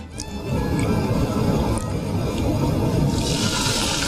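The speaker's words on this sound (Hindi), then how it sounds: "अब मैं थोड़ा सा दूध डालूंगी इसमें" Milk is poured into a hot pan of caramelising sugar while making mutton korma, giving a loud, continuous rushing, gurgling liquid pour that lasts about four seconds, with no voices.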